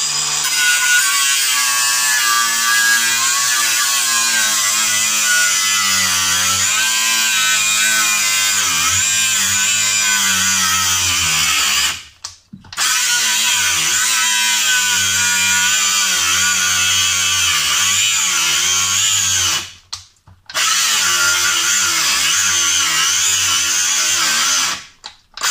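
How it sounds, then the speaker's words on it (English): An angle grinder cuts a bolt off a school bus seat with a loud, continuous high whine that holds and wavers in pitch. It stops twice for brief gaps before starting again. "Okay, so we're gonna cut the bolt off, and do this one more time to show you."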